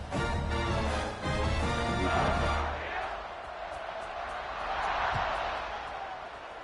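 A football stadium crowd roars continuously as the kickoff unit lines up in the Pitt at UNC game, loud and sustained at first, then settling into a broad, distant wash of cheering with a brief thump partway through.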